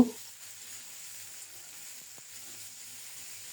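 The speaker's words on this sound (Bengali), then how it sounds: "এবার নেড়ে চেড়ে ঢাকা দিয়ে খুব সুন্দর মতো ভেজে নেব" A soft, steady sizzle of flat beans frying in a pan, quiet and continuous, with a faint clink or two partway through.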